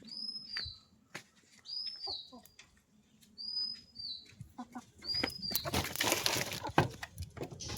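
A reluctant chicken is chased into its coop, with short bursts of wing flapping and scuffling, several sharp bird chirps, and a louder rush of flapping and movement near the end.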